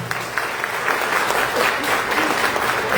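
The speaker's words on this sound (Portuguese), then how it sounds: "Vamos aplaudir o Espírito Santo." A Catholic congregation applauds during a Mother's Day Mass, steady dense clapping filling the church continuously for the whole stretch, loud and close without pause.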